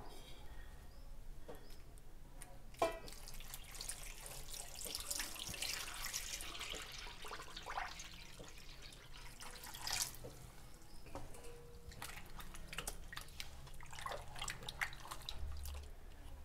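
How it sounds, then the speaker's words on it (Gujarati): Sliced potato wafers are rinsed in water, with soft sloshing, trickling and dripping close at hand, fairly quiet with a few louder splashes. "હવે વેફરને 2 થી 3 પાણીથી ધોઈ લઈશું"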